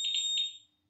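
A Lambretta scooter's built-in alarm gives a piercing, high electronic beep: one loud sustained tone that wavers briefly and then fades out within a second.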